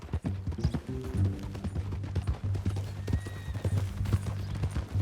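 Horse hooves clip-clop steadily on the ground in the Western video game Red Dead Redemption 2, a close, continuous rhythmic walk running alone throughout.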